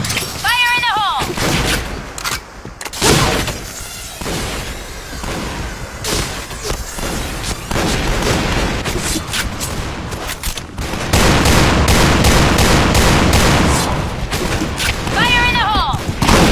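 Gunfire and grenade blasts from the shooter game Point Blank on the Burning Hall map in shotgun mode: loud, dense shotgun blasts and booms in rapid bursts, with short in-game voice callouts between them.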